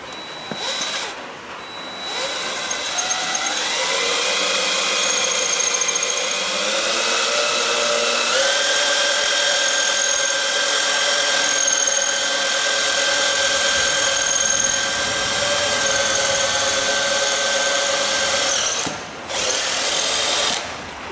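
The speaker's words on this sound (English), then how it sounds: "We'll try to drill the head of it off first." A power drill with a left-handed bit runs continuously for about twenty seconds, drilling the head off a bolt on a two-speed Horton fan clutch, its high whine shifting pitch as it bites into metal, with brief pauses near the start and end.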